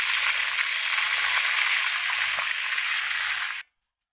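Fish frying in a pan of hot oil, a loud steady crackling sizzle that holds for several seconds and then cuts off abruptly, with no talking.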